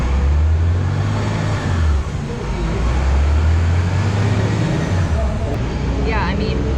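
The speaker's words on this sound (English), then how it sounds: "it was just like 10 trucks driving past" A stream of trucks and vans drives past on a busy street, with loud, close engine rumble swelling and fading as vehicles pass, a few roaring by in succession.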